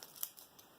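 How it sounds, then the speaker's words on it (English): Scissors snip through folded paper while triangles and a small semicircle are cut out of a paper snowflake, a few quick, faint close crisp cuts in a quiet room. "So I'm just going to cut out smaller triangles here."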